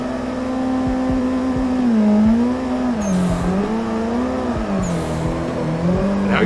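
A car drifts in the Assetto Corsa racing game, its engine note wavering and rising under throttle with tire squeal, loud and continuous from start to end.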